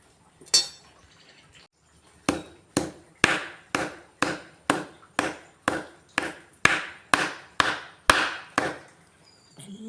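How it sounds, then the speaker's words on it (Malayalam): Herb stems and roots chopped with a knife on a wooden board for a medicinal rice porridge: about fourteen sharp, evenly spaced chops in a steady rhythm, close and clear, after one early knock and a pause. "ഇതിൻ്റെ തണ്ടും വേരും നന്നായി കൊത്തി മുറിച്ചെടുക്കാം"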